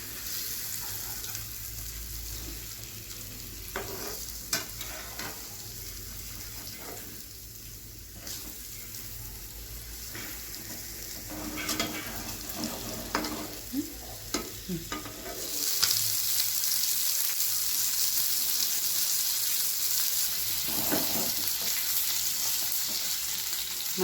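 Two fish frying slowly in oil in a pan over low heat, with a steady sizzle throughout and occasional sharper crackles and clinks of a utensil, the sizzle growing louder and brighter near the end.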